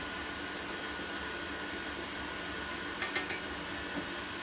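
A stand mixer motor whirs steadily while beating eggs and vanilla extract into birthday cake batter. A few brief clinks sound near the end.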